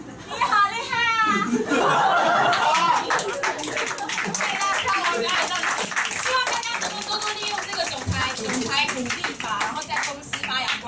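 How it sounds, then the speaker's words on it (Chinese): A stand-up comedy audience claps at length, the applause mixing with voices talking over it and scattered chuckles. "你看杨老师给我掌声鼓励啊"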